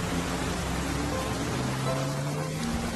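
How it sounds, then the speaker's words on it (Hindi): Heavy rain falls in a steady, dense hiss with no break, with faint low tones beneath it and no one speaking. "बारिश काफी हो रही है"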